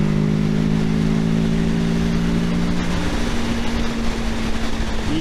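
A Kawasaki Ninja 650 motorcycle accelerates to pass on an interstate, its engine tone climbing steadily through a gear beneath loud, constant wind roar, rising again near the end.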